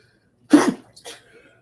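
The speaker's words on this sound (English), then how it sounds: "It would be lovely if I could stop sneezing today" A single sharp sneeze burst, loud and close, followed by a fainter second exhale or sniff in an otherwise quiet indoor setting.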